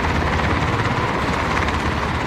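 Helicopter rotor noise in a video game, a loud, constant, close thumping drone with no pauses.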